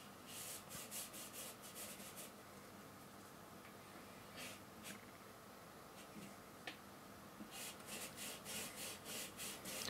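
A brush scrubs oil paint thinly onto canvas in quick, dry, rasping strokes, close and quiet, coming in short bursts with brief pauses between.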